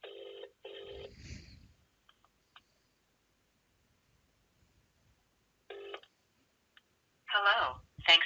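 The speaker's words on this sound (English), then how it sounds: "So I'll try to make a call here now." A phone on speakerphone calling an Amazon Connect contact center line, with two quick ringback bursts, a long quiet pause, another ring tone, then a faint voice answering through the small speaker.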